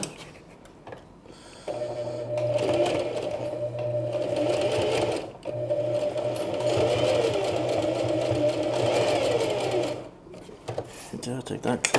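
A sewing machine stitches a coin purse in a steady mechanical whir that runs for several seconds, pauses briefly, then resumes before stopping, with light handling noises around it.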